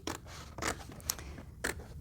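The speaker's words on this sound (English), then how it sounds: "if you fold it a little bit like this, and then just snip it a little bit" Scissors snip folded paper for a craft project, giving four crisp, evenly spaced cuts close by and faint, with quiet handling noise between them and no talking.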